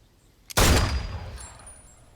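A single loud, close gunshot cracks out suddenly and rings off in a long, fading decay.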